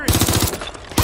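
Rapid automatic gunfire from the Watch Dogs: Legion video game, a loud burst of evenly spaced shots that stops briefly and then starts again at the end.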